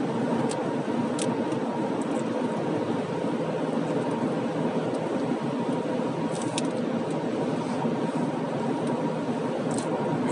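An Opel Insignia 1.4T petrol engine pulls a car steadily uphill in sixth gear at a constant low rev range, a continuous droning hum inside the cabin with road noise and no talking.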